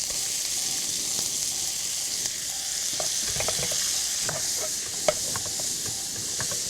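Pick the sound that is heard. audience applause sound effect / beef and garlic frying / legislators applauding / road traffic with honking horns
beef and garlic frying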